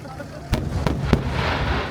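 Large Nagaoka fireworks burst in the night sky at the festival, three distinct booming cracks about half a second apart followed by a crackling wash, with people talking underneath.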